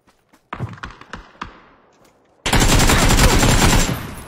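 Video game gunfire: a few sharp single shots ring out and fade, then a loud, sustained burst of rapid automatic fire takes over until the end.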